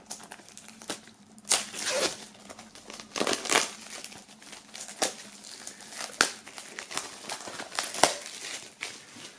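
Plastic wrap being crinkled and torn off a book from a band's box set, close-up crackling rustles in irregular bursts with sharp peaks and no talking.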